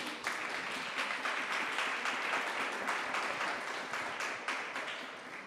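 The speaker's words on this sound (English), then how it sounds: "I think we can clap." Steady, dense applause from an audience at a panel discussion, many hands clapping evenly throughout at a close, full level.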